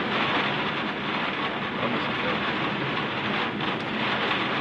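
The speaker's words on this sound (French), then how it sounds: "on n'a pas de chance avec il pleut" Steady, loud rain roars as a constant wash of noise with no talking, unchanging from start to finish.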